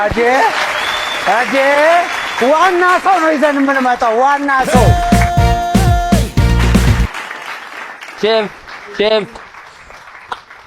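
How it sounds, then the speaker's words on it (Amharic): A burst of enthusiastic applause and clapping from a cooking competition audience breaks out for about two seconds between stretches of excited talking, then the voices carry on. "ሞቅ ያለ ጭብጨባ።"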